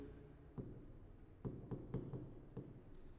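Marker or chalk writing on a board during a zoology lecture on biodiversity conservation: a run of quick, faint taps and strokes, irregular in rhythm, over a quiet room.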